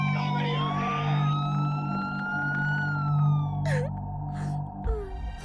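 A police car siren wails with a rising and falling tone, loud and sustained, followed by a couple of short noisy bursts at the end.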